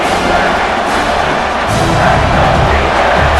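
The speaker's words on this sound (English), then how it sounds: "here comes the noise. This crowd is trying to inspire this defense to make a big red zone stop" A stadium crowd in NCAA College Football 26, during an Alabama versus Georgia game, roars loudly and continuously as a dense, steady wash of cheering noise that swells slightly partway through.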